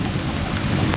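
Steady rain falling outdoors at a BMW enthusiasts' camping weekend at Mantorp Park in Sweden, a dense continuous hiss of drops on surfaces that holds even throughout, close and moderately loud, with no voices.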